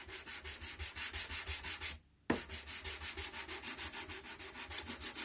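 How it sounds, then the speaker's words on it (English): Hand sanding a boardgame box with steady downward pulls, a rhythmic rasping rub repeating about twice a second, close and continuous, broken by one brief pause before the strokes resume. "So I always try and get that initial sand by pulling it down."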